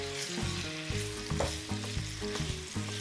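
Tomatoes and onions fry in vegetable oil in a pan, a steady close sizzle with occasional stirring scrapes and clinks, no talking.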